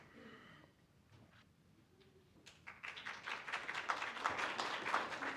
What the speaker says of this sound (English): could we hold the applause